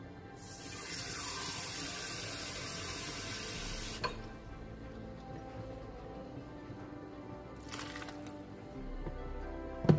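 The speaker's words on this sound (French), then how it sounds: "Donc, vous mettez 2 petites assiettes d'eau." Water pours into a cooking pot for a pistachio cake, a steady close splashing rush for a few seconds that then stops, leaving quiet room noise with a brief second trickle later.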